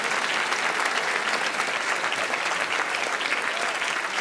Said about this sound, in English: Can you give them a round of applause for what they've done?